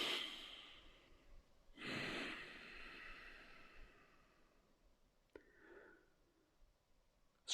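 During a yoga class, a person takes slow, deep breaths: a long, soft exhale, then a stronger hissing breath that fades out, and a faint, short breath near the end.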